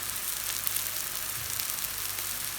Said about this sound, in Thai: ตอนนี้เราก็ทำไข่เจียวใส่กับใบกระเทียมนะคะ ตีไข่แล้วก็ หั่น ใบกระเทียมใส่ลงไปค่ะ